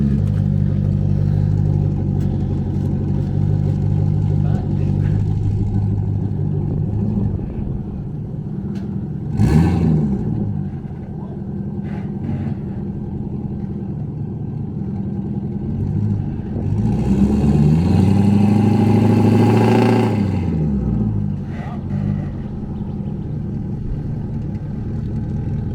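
Holden Majesta idling and warming up ahead of a burnout skid, a loud, close, rumbling engine with two strong revs that rise and fall, one around ten seconds in and a longer one near twenty, no talking.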